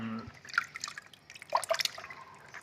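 Water dripping and splashing as frozen sago palm weevil larvae are soaked before frying, with irregular small drips and trickles, close and fairly quiet.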